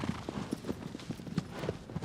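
A horse galloping in Shadow of the Colossus, with rapid rhythmic hoofbeats thudding steadily at a moderate, unvaried level throughout.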